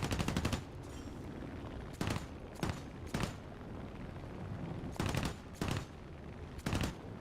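Machine gun bursts in War Thunder, loud close rattling volleys coming in several separate clusters with short gaps between them, continuous gameplay noise underneath.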